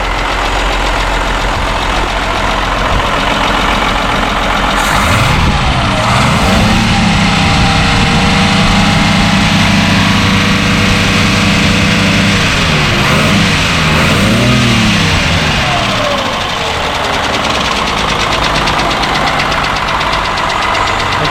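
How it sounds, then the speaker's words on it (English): The engine of a 1959 Mercedes-Benz 220S W180 Ponton idles after an idle adjustment, a loud, steady, close mechanical rumble with a faint knocking texture and a couple of slight rises and dips in speed. "I adjusted the idle on it, and it settled down"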